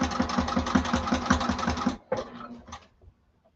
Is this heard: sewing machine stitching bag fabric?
yes